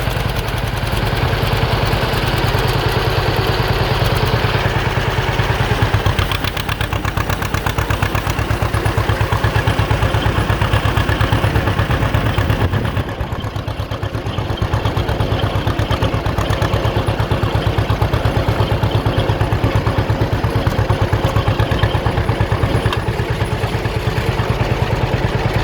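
An old John Deere B tractor, revived after sitting many years, runs loud and close while driving in road gear over soft ground, its engine chugging with a steady clattering beat throughout.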